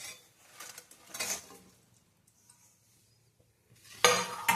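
Fried leftover idli pieces go into a pan for idli manchurian and are stirred, making scattered metallic clinks and scrapes of a utensil against the pan, then a quiet pause and a louder burst of clatter.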